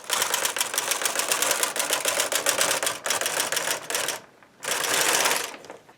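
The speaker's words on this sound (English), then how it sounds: "It's always a little harder for the machine to go through the E-wrap row." A knitting machine carriage being pushed across the bed on an E-wrap row, giving a dense, loud mechanical clatter that runs for several seconds, pauses briefly, then resumes for a shorter pass.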